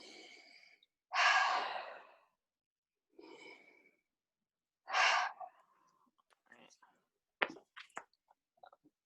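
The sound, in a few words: deep breathing in during a therapy session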